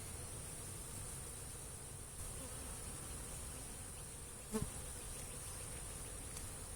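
Honeybees in an opened hive during an inspection give off a faint, steady buzz, with a soft knock partway through.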